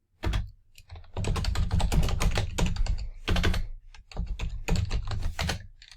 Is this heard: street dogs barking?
no